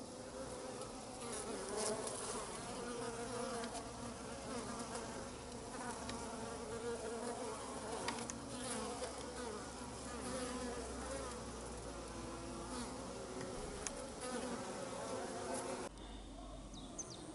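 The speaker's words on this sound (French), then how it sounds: "On remarque beaucoup d'activité encore devant les ruches." Honey bees busy in front of beehives being prepared for winter, a dense continuous buzzing swarm at moderate distance, steady throughout with occasional louder passes of individual bees.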